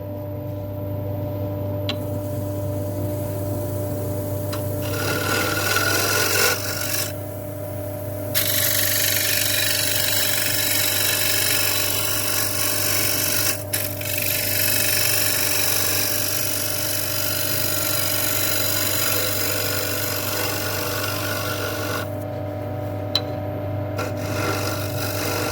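A freshly sharpened scraper cuts camphor laurel on a woodturning lathe, a continuous close rasping scrape over a steady motor hum, with brief breaks as the tool lifts off.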